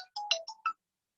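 A phone ringtone for an incoming call plays a short, bright electronic melody of five quick tones, loud and clear, then stops into silence.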